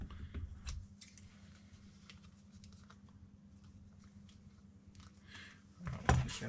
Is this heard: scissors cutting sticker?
yes